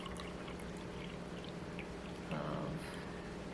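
Distilled water poured into a homemade body lotion mixture gives a short, soft splashing gush partway through, set against a quiet indoor background.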